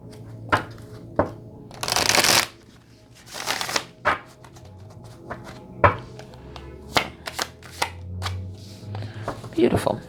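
A tarot-style card deck is shuffled close by in several quick riffling bursts with soft taps and handling clicks between them. A voice speaks at times.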